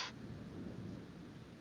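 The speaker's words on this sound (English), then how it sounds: "Yeah, the water spout would kind of sound like a thunderstorm." Low, steady rumble of a thunderstorm with rain hiss, played as a sound effect for a water spout during a tabletop game, quiet and continuous after a brief bright burst at the start.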